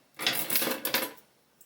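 Scissors make a single close, crisp crunching snip, about a second long, as they cut through a twisted section of hair while someone gives themselves a wolf cut at home.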